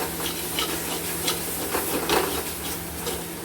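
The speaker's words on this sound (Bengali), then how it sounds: "মিট মশলা দিয়ে এটাকে আমরা ভালো মতো করে আর একটু কষে নেব" Chicken and chickpeas being stir-fried with meat masala for ghugni, a steady close sizzle with soft scraping stir strokes running throughout, no voices.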